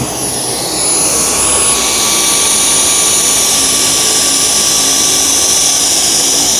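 A Dyson V10 cordless vacuum with a torque drive head runs loud and steady over a matted rug, its high motor whine holding constant with a faint rise as it works, close up and with no talk.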